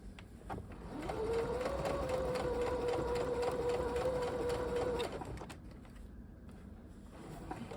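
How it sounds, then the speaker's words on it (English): A sewing machine back stitches fabric for a half-scale jacket, a steady mechanical whir of about four seconds that stops abruptly, followed by quiet room sound. "Back stitch a couple of stitches."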